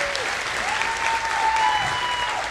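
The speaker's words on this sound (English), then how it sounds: "Can we give them a round of applause?" A summer music camp showcase audience claps for a children's chorus, a dense, even burst of applause with a few voices and cheers mixed into the crowd.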